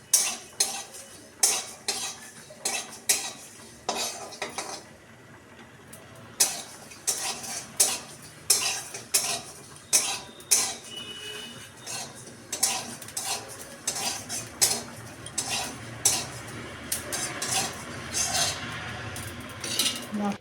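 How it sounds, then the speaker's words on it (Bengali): Ground spice masala frying in a pan while a metal spoon scrapes and clinks against it in a steady rhythm of sharp strokes, close and fairly loud, over a faint low sizzle. "ধীরে ধীরে মশলাটা ভেজে নিতে হবে।"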